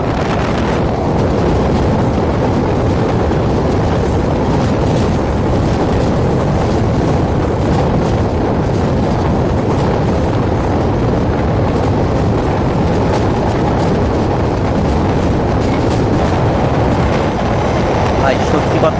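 The Burimari Express train thunders across the Jamuna railway bridge on the Dhaka to Santahar route, a loud, unbroken roar of wheels and steel with wind buffeting the microphone throughout.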